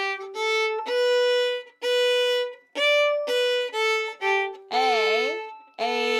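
Fiddle playing the folk tune Coming from the Races, a run of clear bowed notes with slurred phrasing and a wavering, bending note near the end, close and bright with no talking.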